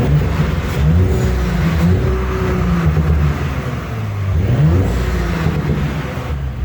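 A B9 Audi S5 engine fitted with an Injen cold air intake revs up and down repeatedly, close and loud, its pitch rising and falling in steady surges.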